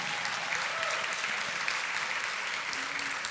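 Steady applause from an audience at an evening awards gala honoring a 40 Under 40 class, continuous clapping filling the room for a few seconds without pause.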